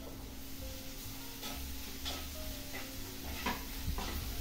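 Soaked fish and chilies hit hot oil in a Sri Lankan home kitchen, giving a steady sizzle with scattered crackles and a few light clinks and scrapes of stirring.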